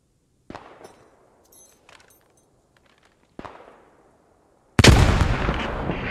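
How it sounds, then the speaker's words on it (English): Artillery in Squad 44's North Africa setting: two sharp distant shell impacts with decaying rumbles and faint scattered crackles, then a much louder, close blast that roars on. "I'm gonna call an artillery on the bank"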